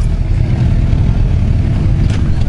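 Engine of a 2015 Suzuki GSX-R750 sport bike running close by, a steady loud low rumble with no talk.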